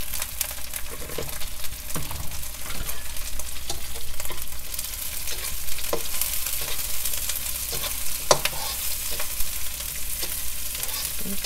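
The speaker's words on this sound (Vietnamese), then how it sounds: "Xào tôm khô và kế đó là lạp xưởng" Dried shrimp, rinsed and briefly soaked, stir-fried in a pan, giving a steady close sizzle with scraping stirs and occasional clinks of the utensil throughout.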